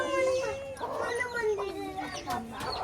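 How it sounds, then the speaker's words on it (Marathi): A hen clucks repeatedly nearby with rising and falling calls, among her chicks. Voices mingle with the clucking. "बघ कोंबडी."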